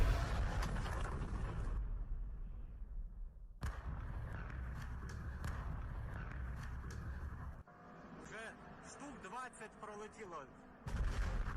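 Explosions and artillery fire around Kyiv, Ukraine: repeated heavy booms and bursts, with rumbling blasts and abrupt cuts between loud and quieter passages, and some faint voices mixed in.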